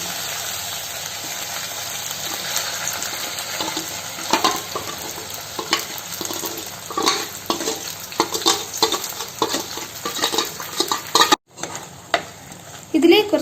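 Spoon stirs a sizzling fish curry masala paste in a pan for Kerala-style mackerel curry, a dense steady frying hiss with repeated scraping strokes, briefly cut off near the end before resuming.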